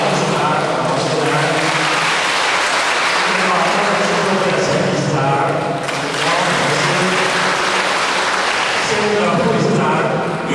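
Audience applause opening a discussion meeting of a Yiguandao association: loud, dense clapping from a roomful of people that carries on steadily for about ten seconds, with voices mixed in.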